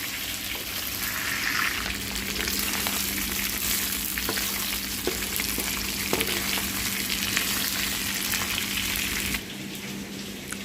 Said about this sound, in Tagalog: So pinapaano ko muna siya, pinapa-brown para hindi malangsa